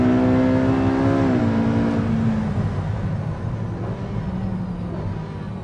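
A heavy, very fast sports car pulls hard through a gear change, its loud engine note climbing, dropping at the shift, then droning on under strong rushing road and wind noise, close and continuous.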